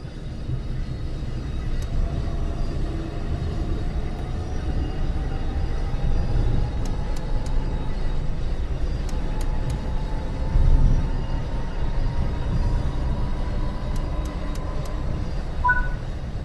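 A New Jersey Transit passenger train coasts on the Morristown Line in Train Sim World 6, giving a steady low rumble with a faint, slowly rising motor whine and occasional light clicks from the track.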